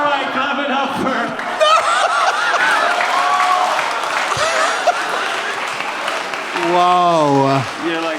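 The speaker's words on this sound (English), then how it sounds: "clap it up for." Audience applause and scattered laughter swell beneath people talking and reacting in a podcast setting, with a brief musical tone near the end.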